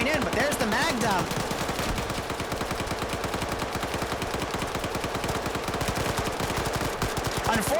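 Rapid automatic gunfire from a magazine being emptied in a video game match, a dense, loud, sustained stream of shots with brief layered bursts over busy game noise, a voice commentating underneath.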